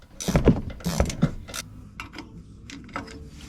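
A ratchet working the nut off a front shock absorber stud on a Ram 2500, a few quick loud clicking bursts close up, then quieter scattered ratchet clicks and metallic taps.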